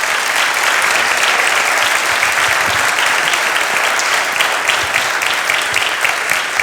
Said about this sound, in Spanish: Este aplauso para ustedes.